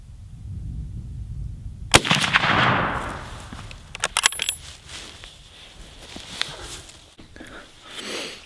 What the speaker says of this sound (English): All right, we got Lance is up to fire his rifle